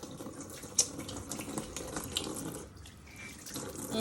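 Water runs steadily from a tap as dishes are rinsed free of soap at a sink, a continuous close splashing hiss with small clinks, no talking.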